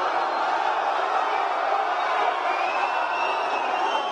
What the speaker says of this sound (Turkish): Pankartlarla, tezahüratlarla müthiş bir destek veriyor Galatasaraylı taraftarlar sarı kırmızılı futbolculara.